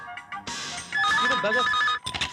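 A telephone rings in a film scene: a warbling electronic ringtone, first in short bursts and then a sustained trilling ring of about a second that cuts off abruptly, close and fairly loud.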